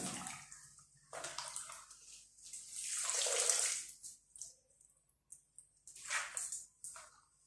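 Fenugreek greens are washed under running water in a home kitchen, with splashing and rushing water in uneven bursts, close and soft with pauses between, and no talk.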